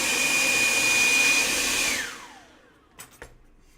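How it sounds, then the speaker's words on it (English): A cordless leaf blower roars with a steady, loud rush of air close by, then winds down as the motor slows and stops, leaving a couple of faint knocks. "now this is the blower. The blower works."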